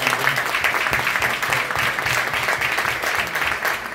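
Audience applauding at a political campaign event for a state treasurer candidate, steady dense clapping from a sizable crowd sustained for several seconds, moderately close.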